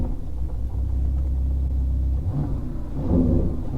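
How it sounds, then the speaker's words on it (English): A 2019 Ferrari Portofino engine turns over via start button and catches, settling into a steady low rumble, then revs up briefly toward the end, close and fairly loud. "press the engine start button"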